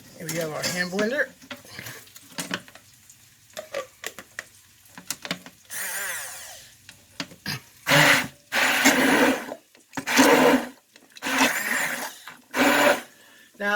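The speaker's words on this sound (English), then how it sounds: "Here we have our hand blender." A hand blender blends whole tomatoes in a kitchen in short, loud whirring bursts, with clinking utensils between them and someone talking early on.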